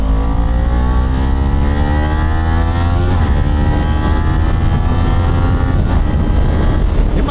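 A Kawasaki Ninja 250 ABS motorcycle cruises along with a loud, steady engine drone and rising, shifting harmonics as it accelerates, mixed with continuous wind rush.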